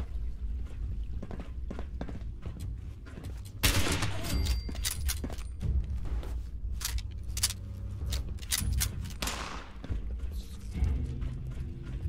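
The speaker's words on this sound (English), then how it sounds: "Where am I getting shot from?" Enemy gunfire aimed at the player in the video game Fallout 76, loud rapid bursts of shots and impacts crackling close over a dense game soundscape, with a heavier barrage in the middle.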